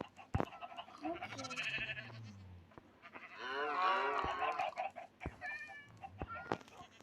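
Goats and other farm animals in the video game Minecraft call out with a run of bleating, wavering cries, one loud cluster rising mid-way among scattered shorter calls and clicks.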